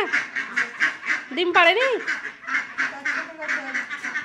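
Ducks at a village pond give repeated, rhythmic quacks close by, with one louder drawn-out call partway through, while people talk over them.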